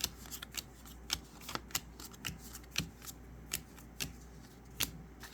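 Cardfight Vanguard trading cards are dealt one at a time onto piles, each landing as a soft, crisp flick in a regular rhythm of about two per second, close and quiet, with no talk.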